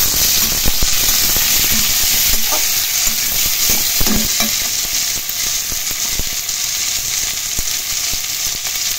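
Ridge gourd and potatoes frying in oil for a Bengali hilsa curry, giving a loud, steady sizzle throughout with occasional scrapes and clicks of stirring.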